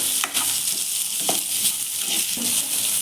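Sliced onions and curry leaves frying in oil, a loud close sizzle broken by a few sharp stirring scrapes of a spoon against the pan.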